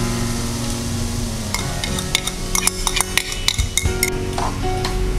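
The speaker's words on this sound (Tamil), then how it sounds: "இந்த முட்டையை இதை ஊற்றி கலரிடலாம்" Beaten egg poured into a radish stir-fry in a pan and stirred in, giving a steady sizzle under repeated metal clinks and scrapes of a spatula against the pan, close and fairly loud.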